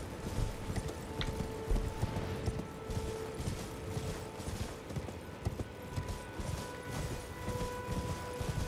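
A horse galloping in the Elden Ring video game during mounted combat, with rapid, steady hoof clip-clops continuing throughout, close and moderately loud, with no talking.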